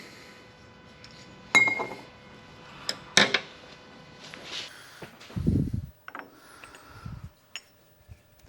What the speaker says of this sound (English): So let's get our jaws swapped over.